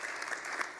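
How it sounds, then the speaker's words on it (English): Brief burst of applause from a conference audience at the closing of GWT.create 2015, honoring the GWT team, steady and moderately quiet with no talking. "it would make sense to kind of give a round of applause for the GWT team"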